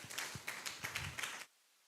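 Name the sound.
audience applauding a councillor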